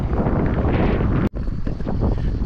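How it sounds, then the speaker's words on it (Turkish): Strong wind roars and buffets the microphone loudly by a roadside in Argentina, broken by a brief dropout before the gusting resumes. "Çok rüzgar var."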